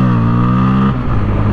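Bajaj Pulsar N160 motorcycle engine revving hard at close range with a strong steady note, then shifting and accelerating as it lifts into a wheelie.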